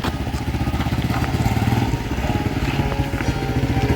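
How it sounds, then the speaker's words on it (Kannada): A motorbike coming along a road, its engine putting out a rapid pulsing throb that stays loud and fairly close throughout, with faint voices in the background. "ಅಲ್ಲೊಂದು ಬೈಕ್ ಬರ್ತುಂಟು, ಅದೇ ಇರ್ಬೋದು."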